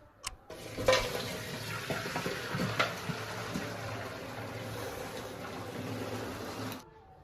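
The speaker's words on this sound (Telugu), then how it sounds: "వాటర్ అన్నీ వంచేసుకొని అన్నాన్ని సపరేట్ చేసుకోవాలి" Parboiled rice for chicken dum biryani is drained of its cooking water, a steady rushing gush with a few sharper splashes near the start that runs for several seconds before cutting off, with no voices.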